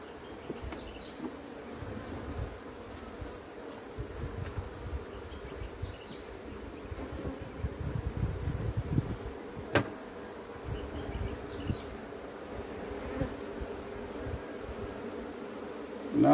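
Honeybees buzzing around the hive frames during a hive inspection, a soft continuous drone with occasional louder passes close by and brief clicks and handling noises.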